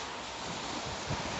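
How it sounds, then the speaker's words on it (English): Strong, cold wind roars steadily through a thunderstorm, a loud continuous rushing gust noise filling the air with no voices. "Very cold, very windy."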